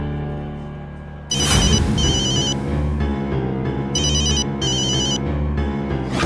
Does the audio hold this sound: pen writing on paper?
no